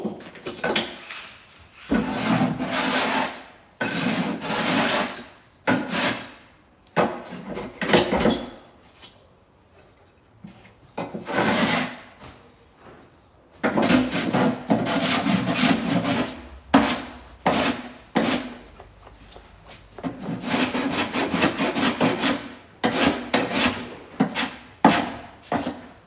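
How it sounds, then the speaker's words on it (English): Wood being sanded by hand in a camper van workshop, with long bursts of rasping back-and-forth strokes separated by short pauses, close and steady, with no voices. "I'm going to make some noise now because I've got to sand this down"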